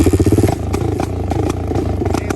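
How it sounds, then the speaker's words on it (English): A Honda TRX450R quad's engine fires with loud, rapid chugging pulses after being kickstarted, then settles into a rough, uneven idle with mechanical clatter, close and alone without talk. "Now you got to kickstart it."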